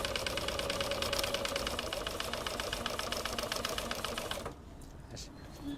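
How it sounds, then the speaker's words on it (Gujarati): Fast, even mechanical stitching rattle from a sewing machine working straps on a motorcycle seat cover for a Hero Splendor, running steadily for about four and a half seconds before stopping, with a few quiet clicks after. "હવે પટ્ટા બટ્ટાની સિલાઈ બિલાઈનું કામ ચાલુ છે અત્યારે, બરોબર."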